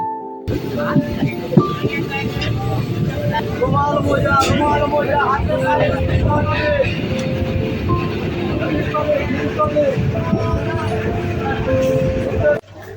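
Passenger train running from Berhampore Court station toward Palashi, a steady onboard rumble and rattle with sustained low noise and crowd babble throughout, loud and continuous.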